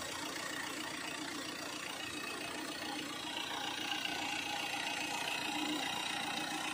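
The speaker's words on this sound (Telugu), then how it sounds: "ఇంజిన్ నాయిస్ ఎలా ఉంది ఇప్పుడు?" A vehicle engine idles steadily after a Sundar Carbon Antidote carbon-cleaning treatment, giving a quiet, even hum that holds without revving or speech.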